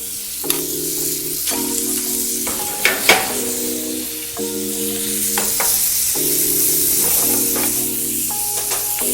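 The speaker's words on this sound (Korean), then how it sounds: "새우를 볶아줄 거야" Shrimp sizzle and fry steadily in a hot pan for a Cajun shrimp dish, a continuous close hiss with occasional stirring scrapes and soft clatter, no talking.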